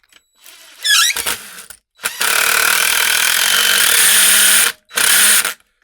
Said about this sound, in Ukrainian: Так, включилася наша муфта.